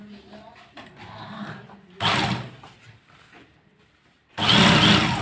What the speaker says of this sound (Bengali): এখন আমরা হাতার এই কপটা সেলাই করে দেখাচ্ছি